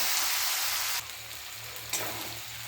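Chicken frying in a pan with spices, cumin powder and chopped ginger, a steady close hiss of sizzling broken by a couple of sharper stirring scrapes.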